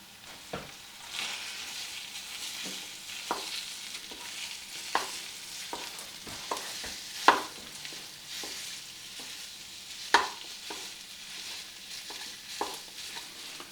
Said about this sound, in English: the onions are starting to heat up now and starting to saute